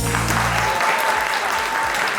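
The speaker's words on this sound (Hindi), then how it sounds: "ख़वातीनो हज़रात, भरपूर तालियों में इस्तकबाल कीजिएगा।" Audience applause fills a television talk show studio as cricket figure Ramiz Raja is welcomed as host, a steady, loud wash of clapping throughout with no voices on top.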